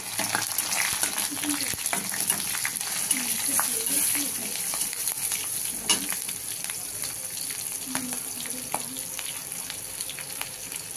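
Chopped green chilies spitting and frying in hot oil for red amaranth greens, a continuous crackling sizzle with scattered pops and stirring sounds, and a faint voice at times.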